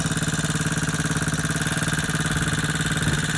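A dirt bike engine with a stuck carburetor runs on its own, a close, steady, rhythmic thumping idle with an even pulse, with no talk over it.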